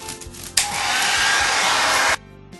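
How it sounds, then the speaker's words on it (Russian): A handheld hair dryer switches on abruptly near the microphone and blows a loud, steady whoosh over a craft blank for about a second and a half, then cuts off. "Фен. Да, мы включаем и сушим нашу заготовочку."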